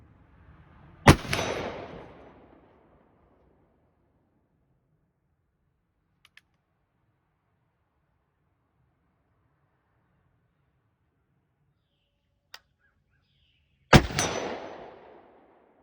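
Two loud, sharp reports from a .54 caliber Hawken muzzleloader rifle, each with a long rumbling tail, about thirteen seconds apart with near silence and a couple of faint clicks between.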